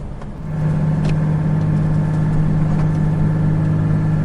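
A car engine drones with a steady low hum, holding a constant labored tone as the vehicle engine-brakes downhill, loud and close.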